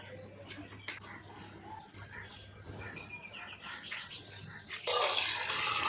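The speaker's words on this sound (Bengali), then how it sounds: "ধুয়ে নিয়েছিলাম সবজিগুলো, আবার একটু ধুয়ে নিলাম।" Mixed vegetables for labra are rinsed under a running tap, with water splashing and trickling close by, then gushing louder near the end, while birds chirp faintly in the background.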